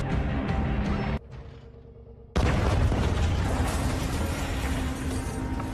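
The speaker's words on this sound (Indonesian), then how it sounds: "melihat ledakan besar tersebut" A sudden loud bomb blast on a boat erupts after a brief hush, followed by a long roaring, crackling rumble that fills the rest of the clip.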